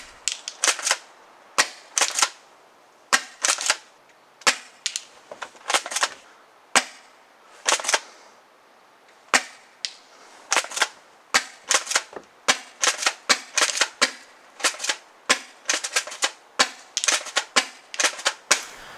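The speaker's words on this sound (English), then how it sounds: "Now we will be using the shotgun shells that came with both of these guns. Let's get into the shooting." A cheap spring-powered pump-action airsoft shotgun fires shell-loaded rounds in a long series of sharp, crisp snaps, each shot followed by pump and reload clicks, close and alone with no talk.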